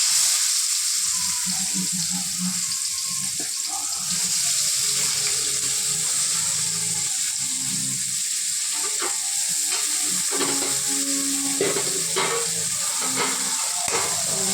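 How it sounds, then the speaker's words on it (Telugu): Chopped onions sizzle steadily in hot oil in a pan, a constant frying hiss with occasional stirring clinks and scrapes, no talk. "మనం ముందుగా కట్ చేసి పెట్టుకున్న ఆనియన్స్ ఇప్పుడు ఈ ఆయిల్లో వేసుకున్నాం"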